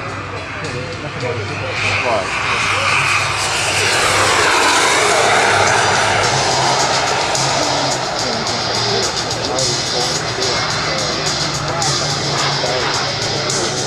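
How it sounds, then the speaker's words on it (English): An A-10 Thunderbolt II jet roars loudly and steadily overhead at an air show, its engine noise swelling and holding strong throughout while an announcer talks over it. "Greg Fushi now bringing the A-10 Thunderbolt 2 into Air Show Center"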